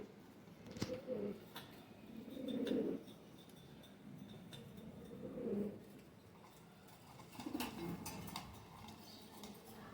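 Rampuri pigeons coo in repeated low, throaty bursts, four rounds spaced a couple of seconds apart, fairly close, with faint ticking and rustle between them.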